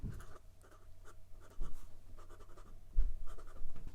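A 1932 Waterman black hard rubber fountain pen with a size 2 flexible 14-karat gold nib scratches across paper in close, soft strokes with small rhythmic taps.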